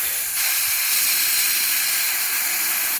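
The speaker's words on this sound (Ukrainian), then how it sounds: "Потрібно спочатку стравити трішки повітря з цієї трубки." Air bleeds from a car air-conditioning refrigerant charging hose connected to a cylinder in a garage, making a loud steady hiss that swells after a brief start and cuts off sharply at the end.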